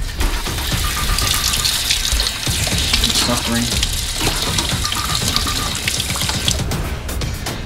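Hot water runs steadily from a tap as a broad, continuous rush, with a person talking over it throughout.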